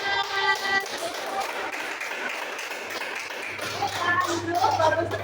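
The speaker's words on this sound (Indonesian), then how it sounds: "kita beri tepuk tangan" Students in a classroom give a brief round of light, scattered clapping with tapping sounds, fairly soft and close, while voices talk over it.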